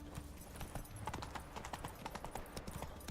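Horse hooves trot in the video game The Witcher 3, an even, steady clip-clop rhythm of close, crisp hoof strikes at moderate volume with no talking over it.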